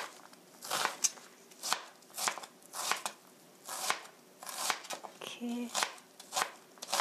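Knife chopping an onion on a cutting board for spicy seasoned chicken, with a steady run of sharp, close, crisp chops, under occasional quiet talk.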